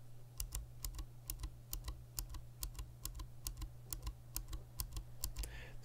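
Clicky Fosen keyboard switches being typed on, a steady run of sharp, crisp clicks at an even rhythm, close and fairly loud against a low background hum, with no one talking.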